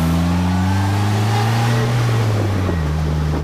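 Steady, loud engine drone and rushing wind from a Polaris Slingshot three-wheeler under way, with the pitch holding and then dipping slightly near the end.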